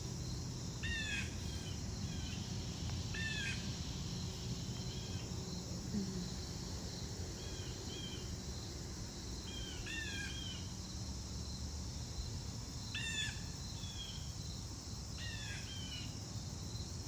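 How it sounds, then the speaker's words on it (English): Short bursts of bird chirps repeat every few seconds over a steady outdoor hiss, with insects buzzing faintly in the background. "we hear the sounds of the birds as they fly, as they speak"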